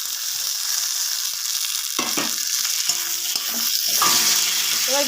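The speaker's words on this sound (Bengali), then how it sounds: "এবার বেগুনটাকে এভাবে খুন্তির সাহায্যে একটু ঘেঁটে দিতে হবে।" Fried eggplant tossed into a hot pan and turned with a spatula: a constant frying sizzle with intermittent scraping and knocking strokes, close and fairly loud.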